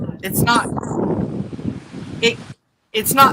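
Wind gusting into a camera microphone on a beach at Fort Morgan, Alabama, during surf fishing: a loud, low, rough rumble that swells and drops, with brief bursts of voice and a short silent gap.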